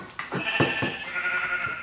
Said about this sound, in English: I see more sheep.